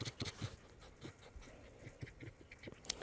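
A fox pants heavily in the snow, its quick, soft, breathy huffs coming close and fairly faint, mixed with light scratchy rustling and no speech.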